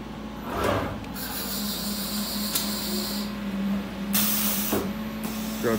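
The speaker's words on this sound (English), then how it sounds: "Air compressor's probably gonna kick on while this is going." An air compressor runs in a CNC router shop, giving a steady low motor hum under broad hissing noise that holds for the whole stretch, with a few brief louder swells.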